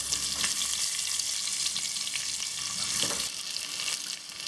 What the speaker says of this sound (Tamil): நம்ம எடுத்து வச்சுருக்க பச்சை மிளகாயவும் இஞ்சி பூண்டையும் போட்டு கொஞ்சம் நல்லா வதக்கிக்கலாம்.